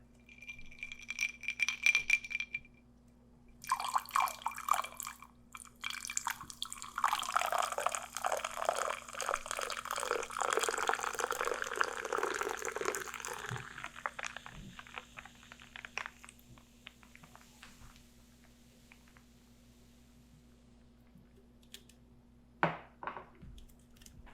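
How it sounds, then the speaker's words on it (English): Sparkling water poured into a drink with lime juice at a bar, a long fizzy, bubbly pour with light glass clinks, close and fairly soft, without talk. "just a little sparkling water."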